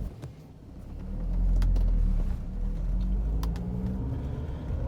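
Car on a test drive after a faulty wheel speed sensor was fixed, a steady low engine and road rumble that swells and holds, with no talk.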